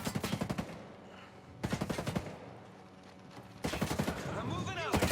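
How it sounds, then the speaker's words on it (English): Gunfire in the tactical shooter Ghost Recon Breakpoint, with bursts of rapid shots arriving in three clusters over a few seconds, fairly close and loud, mixed with game sounds. "Oh, I'm getting shot."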